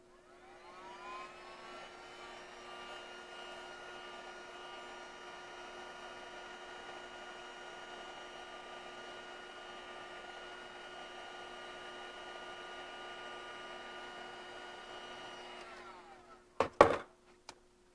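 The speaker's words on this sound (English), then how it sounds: "if you just want to first remove this with the heat gun, you just heat it up a little" Heat gun blowing steadily to warm and soften the glue under a name tag label, a continuous airy roar with a faint whine that runs for about sixteen seconds, then cuts off, followed by a few sharp clicks.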